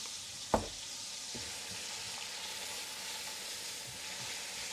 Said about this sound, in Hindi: इसके ऊपर मैं हल्का सा जो है ना सॉल्ट ऐड करती हूँ ताकि ये सही तरीके से फ्राई हो जाए